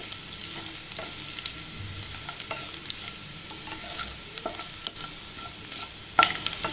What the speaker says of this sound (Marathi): लसूण थोडे तळून घेऊया आपण तेलामध्ये